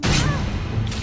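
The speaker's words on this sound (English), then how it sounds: "I love the sound effect when you kill people now." Kill sound effect in the VR combat game Blade and Sorcery, a loud, brief impact with a crashing burst that rings on over a dense game soundscape, a fresh hit near the end.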